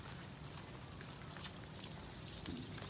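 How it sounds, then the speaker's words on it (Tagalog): Rain falls steadily in Pampanga, a faint, continuous hiss of drops with scattered soft patters and no break throughout. "Kagabi pa po ay walang tigil ang ulan dito sa Pampanga"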